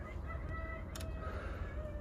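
A partridge calls out in a short burst against a steady low hum, the call standing out briefly midway and fairly faint.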